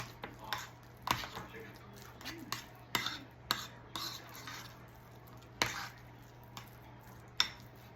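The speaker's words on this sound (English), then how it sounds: "I'm just mashing up all these little bitty lumps, making sure that it's all mashed in there really good." Deviled egg filling mashed in a bowl, a series of soft irregular scrapes and taps of a utensil against the bowl, fairly close, with a low steady hum beneath.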